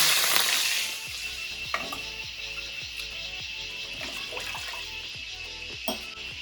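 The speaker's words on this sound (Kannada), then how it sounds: "ಹಾಗಾಗಿ ಇದಕ್ಕೆ ಎರಡೂವರೆ ಲೋಟ ನೀರು ಹಾಕ್ತೀನಿ" Water is poured from a cup into a cooking pot to make ragi balls, a continuous splashing pour with a brighter gush at the start and faint clinks underneath.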